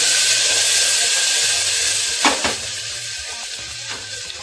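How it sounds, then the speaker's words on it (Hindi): Green chili and ginger fry in a pan, a steady close sizzle with faint stirring scrapes and a couple of brief clinks partway through, no voices. "हल्का सा अदरक हरी मिर्ची को भूनना है"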